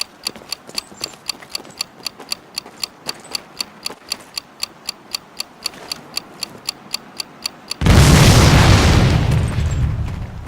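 Old jalopy cars blown up at a boot camp demolition: a steady loud ticking like a timer counts for several seconds, then a big booming explosion hits and its rumble slowly decays.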